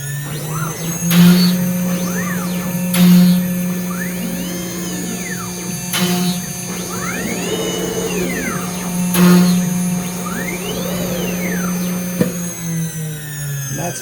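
A CNC router cuts dowel pin holes in a spindle whine that holds steady throughout, with a rising and falling tone as the tool moves and plunges and brief sharp bursts at regular intervals, loud and close.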